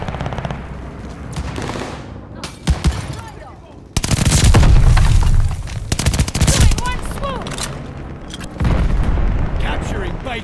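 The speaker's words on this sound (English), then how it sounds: "Friendly bombing run on the way." Explosions and gunfire from a bombing run boom and rattle in a Call of Duty style first-person shooter. Loud bursts come in dense waves, with game announcer voices mixed in.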